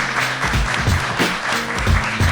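Studio audience applauding on a live Spanish talk show from Vigo, a steady wash of clapping lasting the whole moment with a faint tonal hum beneath.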